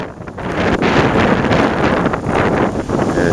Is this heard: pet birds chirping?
no